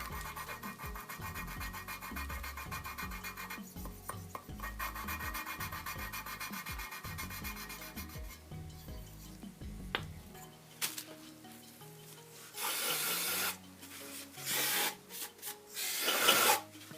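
Valves of a Honda VF750F engine are being lapped with fine paste. Rhythmic back-and-forth grinding strokes repeat close up for about ten seconds, followed by a few louder, harsher rubbing bursts. No one speaks.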